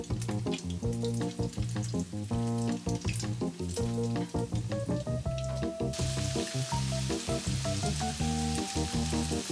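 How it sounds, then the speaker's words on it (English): Egg-battered Japanese fried chicken breast sizzles in a pan of hot oil, a constant crackling hiss that sits beneath loud, rhythmic music playing throughout. "Carefully lay the chicken into the pan."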